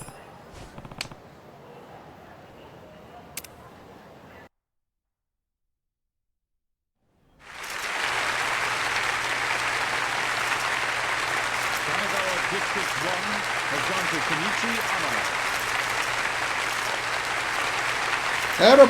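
Loud, sustained crowd applause in the video game Yakuza: Like a Dragon, a dense steady roar of clapping that starts abruptly after a silent gap and holds to the end, with a low steady hum beneath and faint sounds before the gap.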